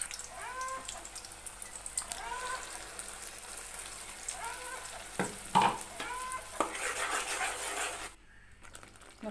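Pineapple jam boils with ghee in a pan while being stirred, giving a soft bubbling sizzle with repeated scraping strokes of the spoon, fairly close, then briefly quieting near the end.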